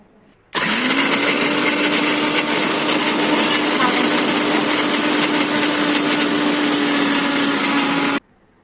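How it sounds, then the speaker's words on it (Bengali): A new 1200-watt Miyako electric blender grinding nuts whirs loud and steady for several seconds, a constant grinding drone that starts abruptly and cuts off sharply. "বাদামগুলো করতেছি ব্লেন্ডার নতুন ব্লেন্ডার আনা হয়েছে"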